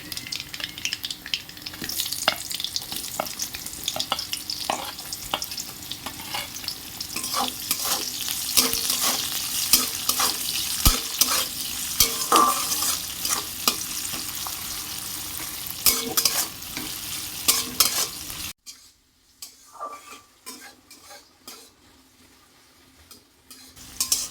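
Chopped onion and garlic frying in oil with nigella seeds in a pan, a loud dense sizzle with repeated spatula scrapes and stirring clatter, then dropping away to near quiet with a few faint clinks.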